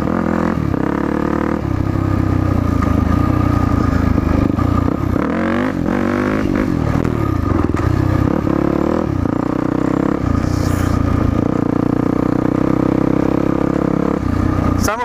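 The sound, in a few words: dirt bike engine revving while pulling a wheelie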